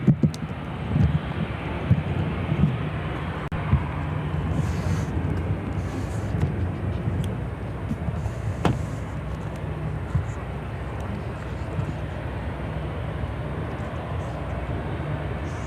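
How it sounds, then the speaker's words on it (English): A Lufthansa Airbus A350-900 arriving from Munich at Chicago O'Hare passes as a soft, distant, steady rumble of jet noise, with a few faint clicks early on. "Flight coming in from Munich on this A350-900."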